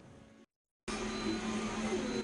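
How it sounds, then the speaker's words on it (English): A 3D printer runs steadily in a workroom while producing mask supplies, giving off a continuous mechanical whir with faint motor tones after a brief silent cut. "This 3D printer is hard at work, creating something that's so desperately needed around the world."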